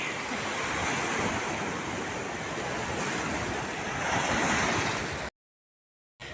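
Sea waves wash steadily onto a shore in Italy, a continuous close hiss and churn of surf that fills the scene before cutting out abruptly near the end.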